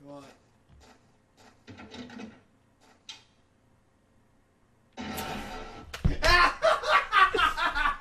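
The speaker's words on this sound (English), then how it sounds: "It's a door." Door in the survival horror game Silent Hill 4: The Room, heard as a sharp mechanical clunk and heavy creaking burst midway, following quiet scattered knocks and soft room noise, with loud game sound continuing afterward.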